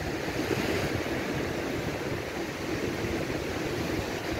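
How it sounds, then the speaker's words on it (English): Calm sea waves wash steadily along Barbados's south coast, a continuous soft surf hiss with wind, even and unbroken throughout with no talking. "And the waves here are much calmer than that of the east coast."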